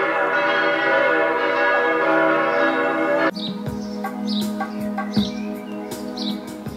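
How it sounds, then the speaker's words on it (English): Church bells peal loudly and continuously for about three seconds with dense sustained ringing, then cut off, leaving distant birds chirping over a quiet background. "Great, the bells have stopped."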